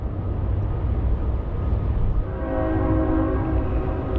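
A train rumbles steadily nearby at a dam on the Mississippi River, and partway through a long horn sounds with sustained tones over the rolling noise.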